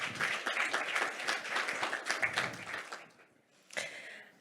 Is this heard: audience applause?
yes